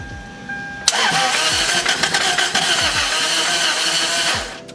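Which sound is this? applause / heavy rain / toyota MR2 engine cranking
toyota MR2 engine cranking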